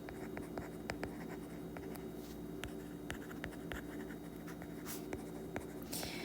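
A pen or marker writes a short note during a math lesson on subtracting mixed numbers, giving faint, quick scratching strokes in an irregular rhythm over a quiet room.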